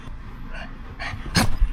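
A dog makes short, faint yips and panting sounds over steady background noise, with a sharper yelp near the end.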